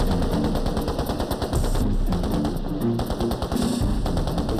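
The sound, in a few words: soldiers firing weapons on full automatic, mad minute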